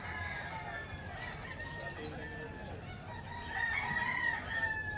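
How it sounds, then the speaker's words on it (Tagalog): Many chickens cluck and roosters crow together, a busy, continuous flock chorus that swells louder toward the end. "Napakaraming manok."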